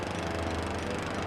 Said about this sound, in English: Suddenly, Marv heard an engine cough to life above him.